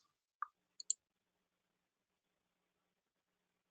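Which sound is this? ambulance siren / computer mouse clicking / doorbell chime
computer mouse clicking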